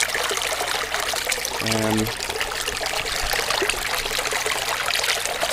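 Water sloshes and trickles continuously as a gold pan is worked slowly in a stream in Gippsland, Australia. A brief tonal sound rises over the steady, close watery wash.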